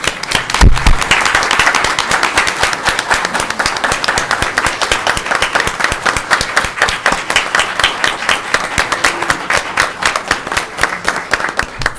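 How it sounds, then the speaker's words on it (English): Sustained applause from the audience at a city council meeting, dense rapid clapping from many hands that holds steady and loud throughout, with no talking. "I'd just like everyone to give her a great applause"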